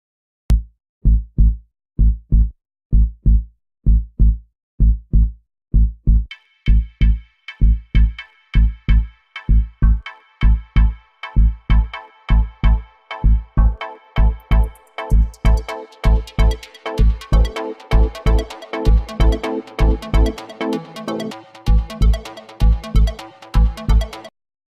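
Big room progressive house loops play in turn: a punchy four-on-the-floor bass pulse runs alone at first, then a bright stabbing lead loop joins, and finally dense chord stabs fill out the mix, loud and steady throughout.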